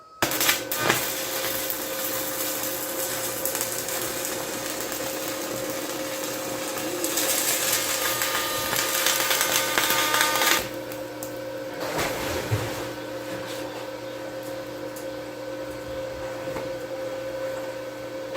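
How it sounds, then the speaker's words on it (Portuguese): Electric welding fuses new security bars onto a window frame at an off-grid home, producing a steady, loud buzzing hiss with a constant hum that swells for a few seconds and then carries on at a lower level. "Eu preciso soldar novas barras aqui em cima para a gente poder colocar a janela lá."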